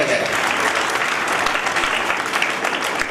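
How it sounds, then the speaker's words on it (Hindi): A crowd of parents and guests at a school Independence Day celebration claps loudly and continuously, close and dense applause that holds steady for the whole stretch. "आप सब लोग अपने लिए एक मरतबा जोरदार तालियां बजाएं।"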